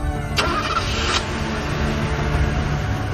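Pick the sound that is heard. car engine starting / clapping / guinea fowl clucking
car engine starting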